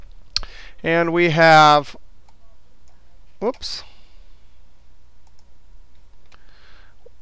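Computer mouse clicks in a spreadsheet program while opening macro security settings: a sharp click near the start and another a few seconds later, with someone talking between them.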